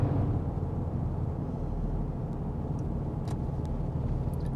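Steady broadband traffic rumble from many cars driving on a busy road far below a hilltop lookout near Cape Elizabeth, Maine, a continuous distant wash with no talking.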